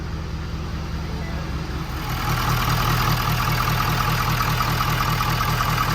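Ford 6.7 Powerstroke diesel idling in a shop after an injector and fuel-system conversion, a close, steady low rumble that rises slightly in loudness partway through, with no talking.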